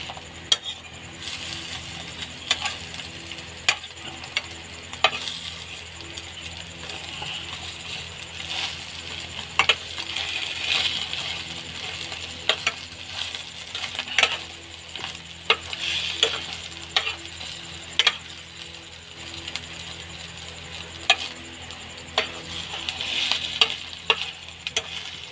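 Eggs frying in a pan with poppy seed paste, a steady sizzle under repeated sharp scrapes and taps of a spatula stirring against the metal, close and continuous with no voices.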